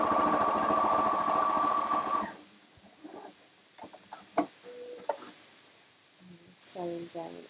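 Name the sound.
computerised Janome sewing machine stitching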